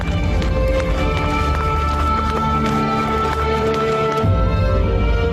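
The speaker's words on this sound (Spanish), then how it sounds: "Son sonidos de hombres a caballo, dentro del palacio, acercándose." Horses carrying riders approach inside a palace, a loud, dense, rapid drumming of hooves running close by, steady throughout before a brief drop near the end.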